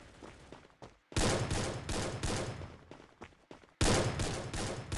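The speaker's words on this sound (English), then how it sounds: "Oh, I saw someone shooting." Loud bursts of rapid automatic gunfire from the mobile battle royale game Free Fire come in two long volleys separated by a brief pause, close and dominating, with a few lighter shots just before.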